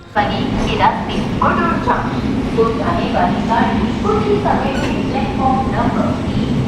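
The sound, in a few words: passenger train running, Dharmavaram to Narasapuram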